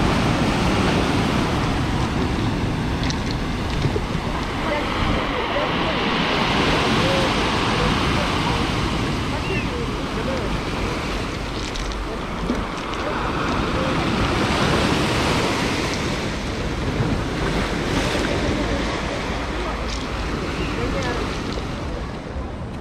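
Sea waves roll onto a beach at Lazarevskoye on the Black Coast near Sochi in September, a continuous loud surging wash that swells and recedes, roughened by wind buffeting the microphone.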